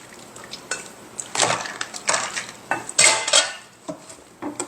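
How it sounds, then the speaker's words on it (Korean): Boiled noodles are drained in a kitchen and moved into cold water. Pots and a colander clatter and knock with sloshing water, in close, irregular bursts and no speech. "이 정도에서 물을 건져낼 겁니다. 따라내서 바로 찬물에 식힐 거예요."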